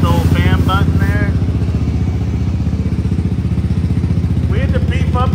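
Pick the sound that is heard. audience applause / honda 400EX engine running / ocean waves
honda 400EX engine running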